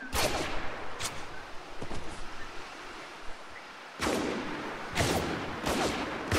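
Gunfire from several players in a Spec Ops: The Line multiplayer team deathmatch, with sharp shots and bursts in a few clusters over constant background noise.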